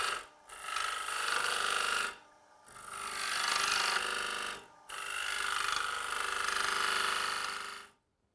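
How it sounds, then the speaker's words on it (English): A detail point cutter on a TurnMaster lathe shapes a dovetailed foot on a wooden bowl, giving three sustained scraping, hissing passes separated by short pauses, close and fairly loud before the sound ends. "Now with the detail point cutter, we can produce our dovetailed foot to hold on to the jaws of the chuck."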